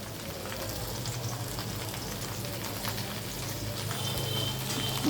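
Potatoes, onions and okra fry with salt in a pan, giving a steady, close, continuous sizzle that swells slightly toward the end, with no talking.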